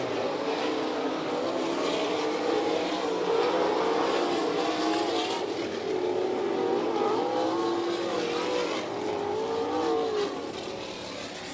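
A sprint car races down the front stretch at a dirt oval in Lima, Ohio, during an All Star Circuit of Champions Speedweek event, its engine a loud sustained roar with pitch rising and falling as it passes.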